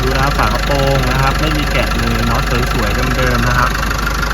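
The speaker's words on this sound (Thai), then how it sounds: "ผมอยากให้ฟังเสียงเครื่องยนต์นะครับ" A 2019 Isuzu D-Max 1.9 Z Stealth turbo-diesel pickup idles with a steady, close mechanical rumble while someone talks continuously over it.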